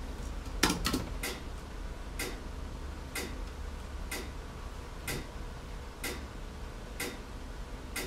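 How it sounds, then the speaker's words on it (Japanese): A hi-hat cymbal in a sequenced background music track taps out a crisp metallic tick roughly once per second, sounding light and steady over a quiet backing, with a quick cluster of hits near the start. "続いてはハット、チッチッチッチッっていう金属音の音ですね。"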